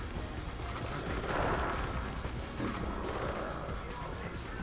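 Enemy gunfire in the PS2 game Sly Cooper and the Thievius Raccoonus comes as a dense, rapid stream of shots and crashes. It fills the whole clip at steady loudness.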